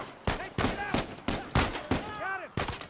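Bursts of enemy gunfire in the action game Uncharted 4, rapid volleys of shots cracking out in repeated clusters across a busy firefight, loud and close, with a voice talking over parts of it.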